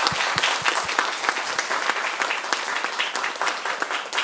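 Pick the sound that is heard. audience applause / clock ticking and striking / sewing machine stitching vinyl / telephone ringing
audience applause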